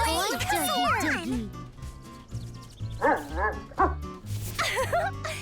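Dog barks and yips from a cartoon dog in an animated children's show, brief repeated bursts mixed with expressive character voices talking and exclaiming over background music.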